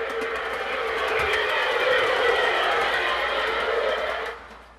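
An air-powered model steam train, the largest in the collection, runs steadily with a broad hissing rush that holds nearly level before cutting off sharply near the end, heard up close and without talk.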